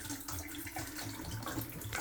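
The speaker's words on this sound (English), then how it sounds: "We're going to add antifreeze to the shower trap." Antifreeze pours steadily into a bathroom shower drain trap, a continuous soft gurgling splash that sounds close and moderately quiet, with no voices.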